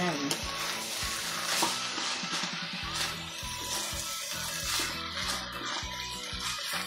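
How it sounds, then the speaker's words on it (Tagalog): Spicy adobo bamboo shoots (labong) sautéing in a pan give off a loud, continuous sizzle, broken by repeated scraping and clatter from stirring. No one speaks. "Kumbaga ginisa na lang natin ngayon."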